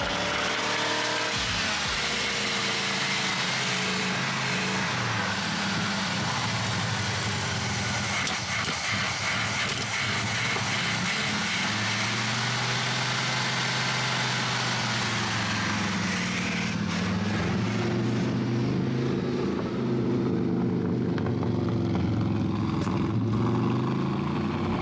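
An abandoned muscle car pulled from a junkyard idles roughly close by, its engine stumbling and misfiring in an uneven, lumpy rhythm throughout, with a slight change in tone partway through.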